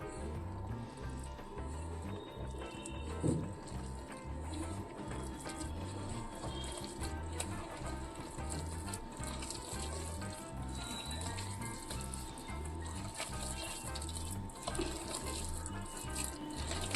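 Cooking water left from boiling keerai greens trickles steadily into flour for chapati dough. The continuous watery pour and splash runs under a constant background hum, with no clear talk.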